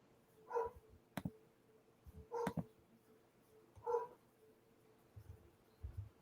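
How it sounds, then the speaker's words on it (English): A dog barks three times at a distance, each bark short and faint and spaced a second or more apart, with a few soft knocks and quiet background noise in between. "My dog's barking, but that's not mine."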